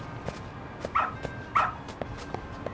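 Dog barking in the video game Lost Judgment, two short barks about half a second apart, moderately loud over soft ambient game noise with faint clicks.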